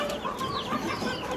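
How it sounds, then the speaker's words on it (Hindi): An Aseel breeder rooster clucking at close range, giving a rapid series of short throaty clucks over a busy, noisy background. "और एक इसके साथ ये मुर्गा है जी"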